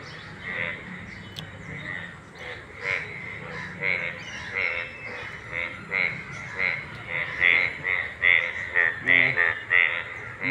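Frog croaking in a rhythmic run of loud, repeated calls that grow stronger toward the end, with a person talking over the calls.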